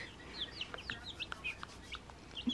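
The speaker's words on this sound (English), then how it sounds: "Well, that one's a rooster." Rooster and hens clucking and calling faintly in the distance, short scattered vocalizations over a quiet outdoor background.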